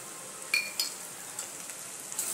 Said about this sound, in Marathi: हे तेलामध्ये चांगलं परतून घ्यायचं कांद्यामध्ये